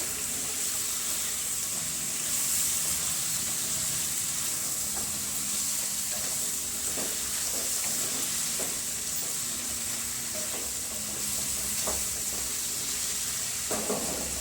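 Coarsely chopped tomatoes stirred into a sizzling pan of frying potatoes and spices, a steady hiss of hot oil with occasional scraping clicks of the spoon, close and moderately loud.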